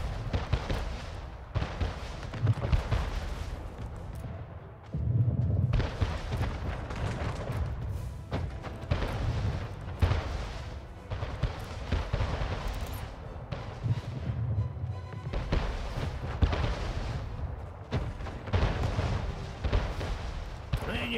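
Heavy cannon blasts boom again and again in Anno 1800 naval combat amid a dense wash of battle noise and music, loud and continuous with repeated deep thuds.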